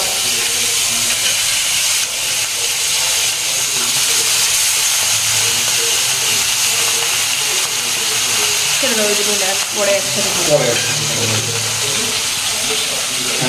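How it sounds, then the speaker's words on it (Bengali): Fish frying in hot oil gives a loud, continuous broadband hiss and sizzle that holds steady throughout, with voices briefly rising over it near the end. "এখন মাছ ভাজা হচ্ছে।"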